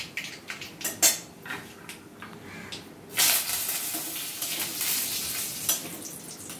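Spices are stirred in a pan for kadhi pakora with metal spoon clinks and scrapes, then curry leaves hit the hot oil and a loud, bright burst of sizzling takes over and continues steadily, close and without talk.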